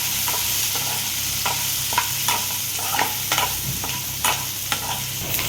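Pumpkin seeds and cashews frying and being stirred in a pan, a steady sizzle broken by a series of short scraping stir strokes, close and fairly loud with no talking.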